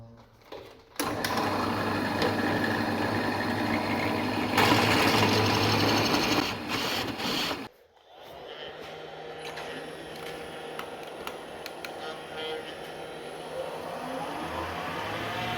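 A wood lathe spins up to about 1800 RPM with a pen kit blank mounted on its bushings, giving a loud steady motor whine and hum that dips briefly, then resumes as a continuous drone with faint ticking.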